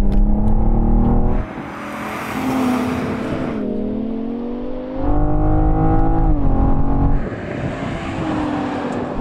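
A BMW M5 V10 Touring and a BMW M440i roar and rev hard in a rolling drag race from 50 mph, pitch climbing and dropping with each gear change, loud and close, with no talking.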